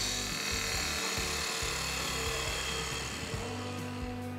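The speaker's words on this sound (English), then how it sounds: "Very little resistance to the cut. We're getting a nice shaving off there." Woodturning lathe spinning steadily while a turning tool takes a smooth shaving off the wood, a continuous even hum and hiss with light rhythmic pulsing, close and alone.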